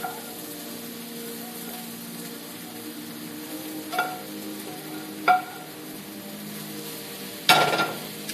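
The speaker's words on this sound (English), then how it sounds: "Now I'm about to mix my vegetables with my eggs." Spinach, mushrooms and other vegetables are stirred into eggs in a hot pan, giving a steady low sizzle broken by three sharp knocks of a utensil against the pan, with no talking.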